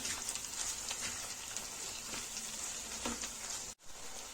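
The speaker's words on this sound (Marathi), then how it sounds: "कांदा जो आहे चांगला भाजल्यानंतर आपण याच्यामध्ये जे आहे चवीपुरती मीठ ऍड करणार आहोत" Sliced onions frying in a pan for kandavani, a Maharashtrian onion dish: a soft, continuous crackling sizzle with occasional small pops, fairly faint and heard without talk.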